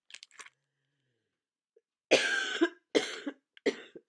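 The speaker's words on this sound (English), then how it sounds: "Sorry about the coughing." A person coughs several times close by, a few harsh bursts separated by short pauses in an otherwise quiet room.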